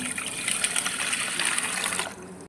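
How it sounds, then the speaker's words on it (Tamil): A tumbler of water is poured into freshly squeezed lemon juice with sugar, a close, continuous splashing gush that stops abruptly after about two seconds. "இப்போ இது கூடயே 1 டம்ளர் தண்ணி சேர்த்துடலாம்."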